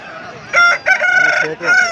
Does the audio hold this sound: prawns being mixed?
no